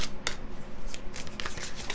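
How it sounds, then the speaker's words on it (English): Tarot cards being shuffled by hand, a quick series of close crisp riffling bursts and flicks over a little under two seconds with no talking. "I'm actually going to just shuffle."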